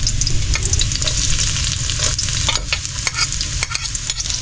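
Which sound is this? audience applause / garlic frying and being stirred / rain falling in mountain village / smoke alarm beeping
garlic frying and being stirred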